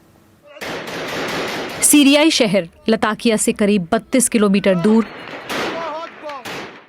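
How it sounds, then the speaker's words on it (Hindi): Bursts of gunfire in the Syrian town of Jableh, near Latakia, come as harsh noisy crackles at the start and end, while a reporter speaks over most of the middle. "जबलेह में गोलियां चल रही हैं।"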